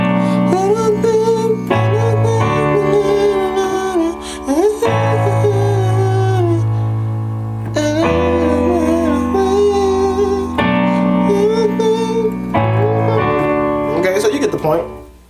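Piano playing part 5 of a song, full sustained chords with a melody line above, loud and continuous with chord changes every couple of seconds, no talking over it.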